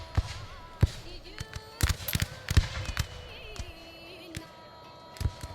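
Cannon and gun volleys in a Shogun 2: Total War battle sound as scattered sharp cracks and thuds at irregular intervals, a few close and louder, over faint battlefield murmur and occasional tonal sounds.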